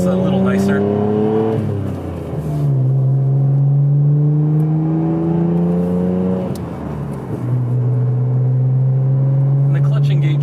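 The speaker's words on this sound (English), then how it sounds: "We're going to test the transmission here. Got a nice open straightaway, and here we go." A Nissan Skyline GTR R33 V-Spec with a five-speed manual gearbox accelerating hard down an open straight, the engine note rising steadily, dropping at each upshift, then climbing again through three gears, loud and close from inside the car.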